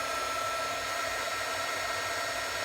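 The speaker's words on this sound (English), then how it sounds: "your best bet, if you're not going to do this out of the oven, is to use a heat gun" A heat gun blows a steady, loud broadband hiss of hot air while warming polymer clay, the whooshing airflow constant and unbroken with no voices.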